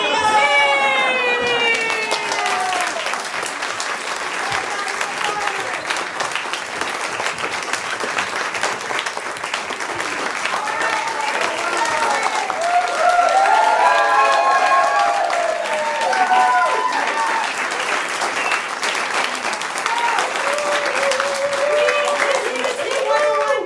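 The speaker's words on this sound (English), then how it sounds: "Give a big round of applause." An improv class show audience applauds and cheers steadily for the full stretch, with whoops and excited shouts rising over the dense clapping, loudest in the middle section.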